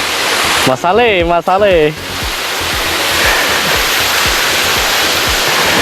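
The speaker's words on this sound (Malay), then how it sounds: "Kita sampai dekat air terjun sungai Kooi." The waterfall of the Kooi river in Royal Belum gives a loud, steady broadband roar close by, with a brief spoken word near the start before the rushing water continues alone.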